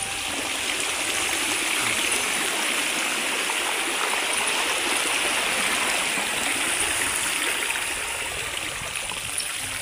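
Floodwater pours steadily off a flooded rice field, a continuous loud rushing and gurgling flow heard up close with no pauses or voices.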